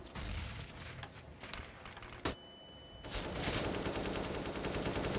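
Gunfire in Counter-Strike on the Mirage map during a pug match: a dense burst of rapid shots through the opening seconds, one sharp loud crack near the middle, then a thicker, continuous volley of automatic fire to the end.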